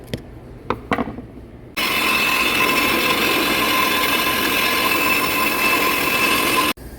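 A wire wheel on a power tool scrubs old gunk off a Jeep XJ manual transmission shifter, starting with a few short taps, then a loud, steady whirring grind that runs about five seconds before stopping.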